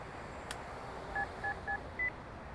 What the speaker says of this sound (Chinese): 悠悠啊，你快打电话问他吧。